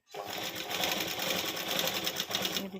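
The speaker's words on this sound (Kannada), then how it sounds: "ಈ ರೀತಿ ಸ್ಟಿಚ್ ಮಾಡ್ಕೋಬೇಕು ನೋಡಿ." Sewing machine running at a fast steady rhythm while stitching piping onto a ready-made blouse, a close, continuous mechanical clatter.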